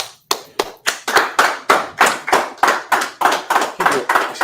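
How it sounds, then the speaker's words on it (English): Lively clapping from a class audience at a scripture breakdown session, a dozen or so strong, evenly spaced bursts of many hands in a quickening rhythm, close and loud, with no talk over it. "Clap it up."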